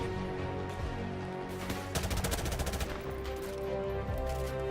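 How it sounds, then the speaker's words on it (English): An M4 Carbine in Modern Warfare Remastered fires a short fully automatic burst of rapid, evenly spaced shots midway, set against a steady background of game noise at modest loudness. "the M4 Carbine has the fastest automatic rate of fire, at 857 rounds per minute"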